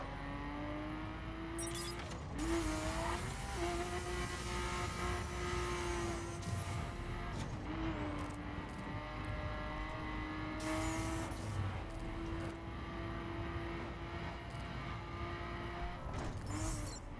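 Car driven in the racing game The Crew, its engine holding a steady droning hum with brief rev shifts and a few clicks, continuous and fairly quiet throughout.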